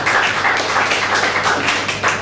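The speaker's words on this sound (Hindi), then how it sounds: "तो एक बार उनके लिए तालियां बजा दीजिए।" An audience at a Hindi poetry event bursts into steady, loud applause for the host, with dense clapping close and continuous throughout and slight swells in intensity.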